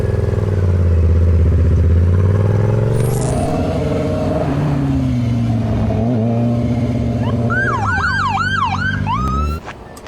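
A loud motorcycle engine rumbles steadily and then shifts pitch, while a wailing police siren sweeps up and down near the end.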